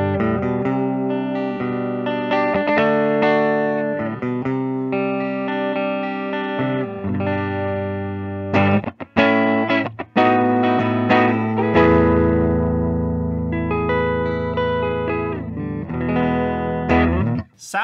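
An Epiphone 1961 Les Paul SG Standard electric guitar, Aged 60s model from 2021, played through its neck pickup with effects, giving sustained chords and lines with a few sharp breaks.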